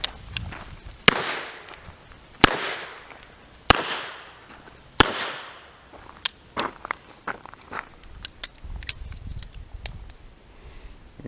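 Four loud, evenly spaced shots from a WW1 Colt Model 1917 New Service revolver firing .45 ACP outdoors, followed by a series of softer clicks, clatters and footsteps during a reload on the run.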